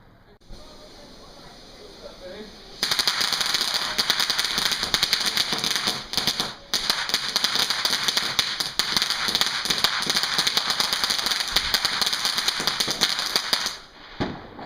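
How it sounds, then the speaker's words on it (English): Mini firework rockets being launched at a Bonfire Night display: a long, dense crackling burst of rapid pops and bangs that runs for about eleven seconds before cutting off, with a voice briefly heard. "That was the last of the 2 mini rockets."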